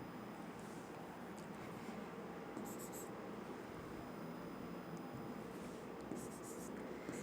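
Marker or chalk writing on a board in a biology class covering two-gene inheritance, steady faint scratching strokes over a hushed room hiss throughout.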